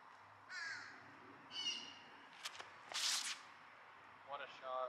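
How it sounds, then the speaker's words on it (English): A crow caws several times in Founder's Park in Dallas, Texas, with harsh, fairly faint calls spaced irregularly and a few brief clicks between them in a quiet outdoor setting. "Bird's calling."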